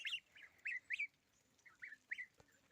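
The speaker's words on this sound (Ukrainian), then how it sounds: "Такі ручні гусенята." High, thin peeping calls from goslings repeat in short bursts, fairly faint against a quiet background.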